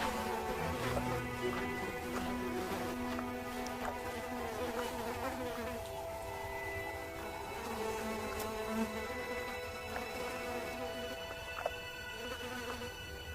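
Flies buzz steadily and close around a pride of lions resting in blazing midday heat, a continuous droning hum with a few brief louder passes.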